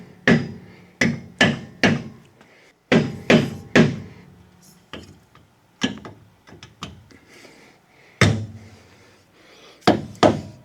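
A greased shock bushing is knocked out on a second-generation Ford Ranger rear shock, with sharp, close metallic hammer blows coming in quick clusters of two to four and then sparser single strikes, all with no talk.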